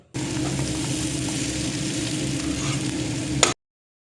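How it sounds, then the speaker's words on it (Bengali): Cracked wheat (dalia) stirred in a hot pan, producing a continuous close sizzle and light scraping at a steady level that cuts off abruptly before the end. "তো ডালিয়া দেওয়ার পর এখানেও 2 মিনিট মতো নেড়ে নেব, মানে ভালো করে মিশিয়ে নেব।"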